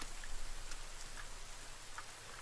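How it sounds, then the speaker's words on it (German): Rain falls in the survival video game The Forest, a faint, even hiss of downpour with a few soft scattered drop taps, steady throughout and without any talking. "Es regnet."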